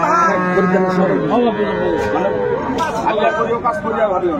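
At the Aftabganj cattle market in Dinajpur, a dairy cow with her calf lets out deep, drawn-out moos amid the busy chatter of a nearby crowd, heard close and loud.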